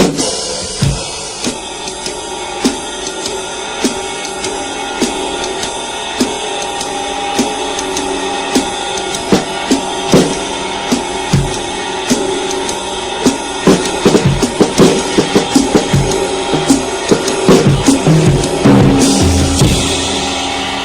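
A drum kit plays a swung eighth-note triplet groove, the steady hits sharp and close, growing busier and louder toward the end, with no voices.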